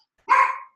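A single short, sharp dog bark indoors, close and loud, lasting under half a second against silence.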